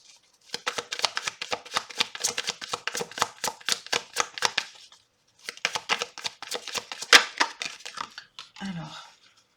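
Cards riffled and bridged over and over for a tarot-style card reading, bursts of quick crisp flutters close by in two long runs with a brief pause between, ending in a few soft taps.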